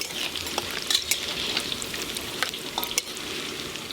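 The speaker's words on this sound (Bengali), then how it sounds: "গরম তেলের সঙ্গে চিনি খুব ভালো করে মিশে গেছে, এবার ফোড়ন করে নেব।" Whole garam masala, cumin seeds, dried red chillies and bay leaves crackle in hot oil with caramelised sugar, a steady close sizzle broken by sharp spits and pops, with no talking.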